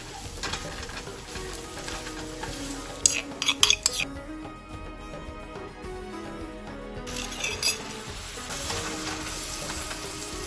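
Spicy Bengali fish and potato curry being stirred in a pan with turmeric, paprika, coriander powder and salt: steady close sizzling with scraping utensil strokes against the pan, including a brief burst of sharper clinks midway.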